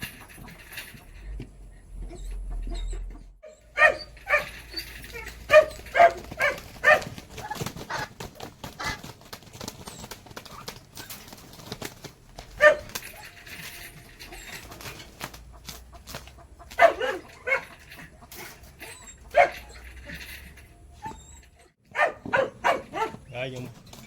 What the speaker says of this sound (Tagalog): laki yung aso na ito galit na galit talaga sa pato